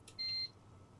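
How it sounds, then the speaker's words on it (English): A single short electronic beep in a darkroom scene of the game The Letter, a clean tone lasting under half a second, faint and alone against a quiet background. "The beep quickly pulls me back before my thoughts travel any further."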